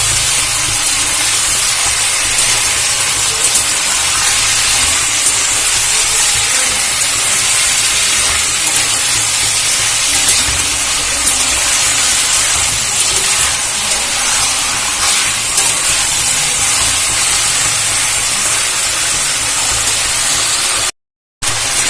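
Chicken meat frying in oil in a pan over a gas flame, a steady loud hiss of sizzling that runs unbroken throughout, with no voices.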